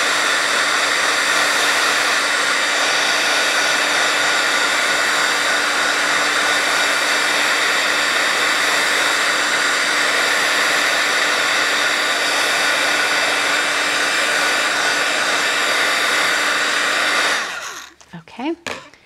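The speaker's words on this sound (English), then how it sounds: "I'm going to hit this with my heat tool just to speed along the drying." Heat tool drying ink on cardstock, a loud steady blowing whir held close for most of the clip before it cuts off, with a few brief handling sounds at the end.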